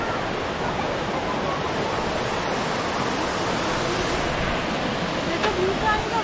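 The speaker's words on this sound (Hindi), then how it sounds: "ये देखिए एक छोटा सा वाटरफॉल" A small waterfall beside a living root bridge in Meghalaya, near Cherrapunji: a steady, dense rush of falling water that fills the whole stretch evenly at close range, with no voices on top.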